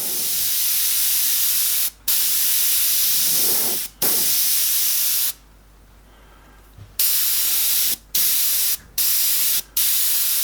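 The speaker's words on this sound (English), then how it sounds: "Now we're going to mist underneath with our grey." Close, continuous hiss of an airbrush misting grey paint for a landscape, cut by several brief pauses and one longer break of a second or so.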